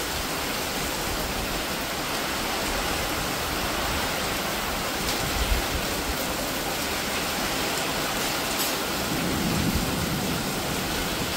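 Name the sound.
heavy rain during a storm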